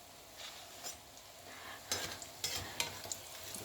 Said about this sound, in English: you have to allow it to deep fry very well